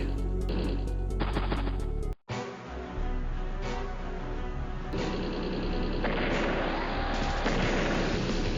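Tank cannon fire from the turn-based strategy game Advance Wars: Days of Ruin, a dense, continuous barrage of booming blasts and rattling shots that drops out briefly near the middle and then resumes at full loudness.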